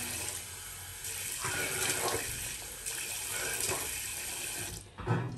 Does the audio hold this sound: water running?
yes